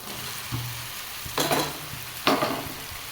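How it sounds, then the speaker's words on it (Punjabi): Potatoes and tomatoes fry in a pan for a healthy Indian mixed vegetable dish, a steady soft sizzle broken by two louder bursts of stirring and scraping. "ਆਪਾਂ ਆਲੂਆਂ ਨੂੰ ਨਾਲ ਨਾਲ ਫਰਾਈ ਕਰੀ ਜਾਵਾਂਗੇ ਨਾਲ ਨਾਲ ਆਲੂ ਭੁੰਨਾਂਗੇ"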